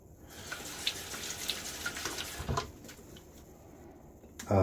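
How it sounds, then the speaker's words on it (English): Tap water runs into a sink for a quick rinse after a shave with a Gillette Sheraton safety razor, a close, uneven splashing and trickle that eases off before a brief louder gush at the end. "So just a partial rinse here, not a big one."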